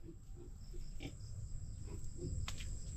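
A pig grunts in short, soft bursts beside a farm fence, repeated every half second or so over a steady background hiss.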